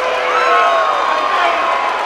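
A boxing crowd roars after a knockdown, a loud sustained wall of cheering and shouting with no single voice standing out.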